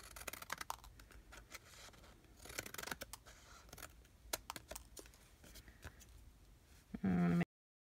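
Scissors snip through patterned paper being trimmed for a card, a series of quiet, sharp cuts and rustles at close range, ending in a brief louder burst.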